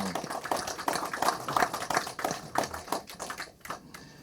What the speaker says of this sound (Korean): 이동복 대표님께 다시 한번 감사의 박수 한번 주십시오